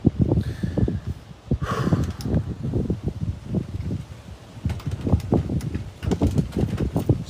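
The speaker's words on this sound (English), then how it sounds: "it's windy outside" Gusts of wind buffet outdoors in uneven bursts, rising and falling, with a faint rustle between the stronger blasts.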